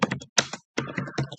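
Quick bursts of typing on a computer keyboard, close and crisp, in short uneven clusters with a brief pause between them.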